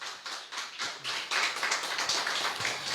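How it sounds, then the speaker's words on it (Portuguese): A church congregation applauding, a steady patter of many hands clapping for a few seconds, moderately loud and continuous. "aplauda ao Senhor Jesus"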